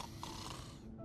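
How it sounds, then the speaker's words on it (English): A snore from a character in the video game Love and Deepspace, a single drawn-out, breathy rasp with a faint whistle, close and alone at low level. "Oh no, not the snoring."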